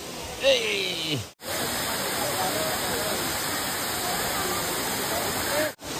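Dudhsagar Waterfall in Goa roars as a steady, broad rush of falling water close by, continuous throughout apart from two brief dropouts, with a voice speaking faintly near the start.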